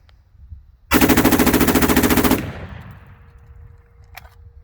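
A 10.5-inch PSA AR-15 pistol with an Alamo 15 trigger and a Gamma VG6 muzzle brake fires one very fast, loud, continuous burst of about a second and a half, with the report ringing off briefly afterward.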